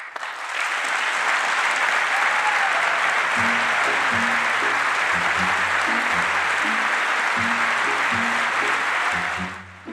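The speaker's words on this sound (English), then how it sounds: "applause or silence can send a powerful message" A large audience of lawmakers in Congress applauds during a State of the Union address: sustained, dense clapping that fills the chamber for about ten seconds, with a low steady tone beneath, before it cuts off.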